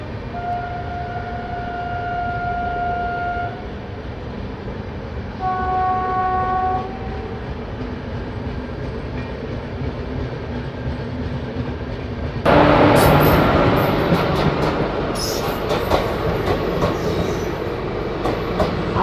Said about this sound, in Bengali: সামনে ওটা বেরিয়ে যাচ্ছে নিউ দিল্লি ইসলামপুর মগধ এক্সপ্রেস